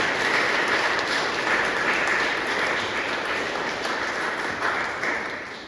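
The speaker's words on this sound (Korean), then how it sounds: "박수 한번 칠까요?" Sustained applause from a Catholic parish audience fills the room, dense, steady clapping that holds at an even level and thins slightly toward the end, with no one talking over it.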